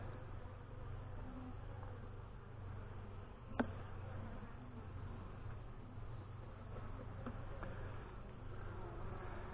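A close, steady drone of honey bees buzzing around an open hive during an end-of-April inspection, with one brief click in the middle.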